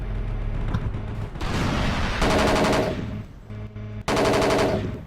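Sustained automatic machine gun fire in Battlefield Yugoslavia, loud and close, with dense rattling bursts that pause briefly and then resume.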